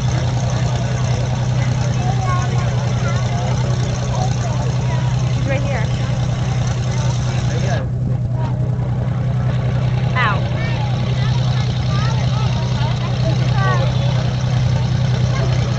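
A Jeep Comanche truck with a four-cylinder engine runs loudly and steadily, a constant close rumble throughout with a brief dip midway, while people talk over it.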